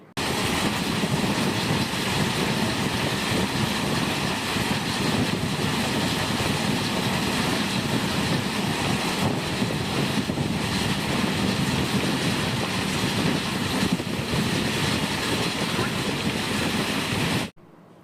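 Inside the Jan Shatabdi Express passenger train running between Mayiladuthurai and Coimbatore, a loud, steady rumble and rush of wheels on rails continues unbroken for most of the stretch, then cuts off abruptly.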